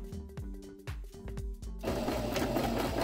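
A sewing machine stitches a decorative seam on folded backpack fabric in short, rhythmic bursts of needle clatter with brief pauses, then runs continuously and louder toward the end.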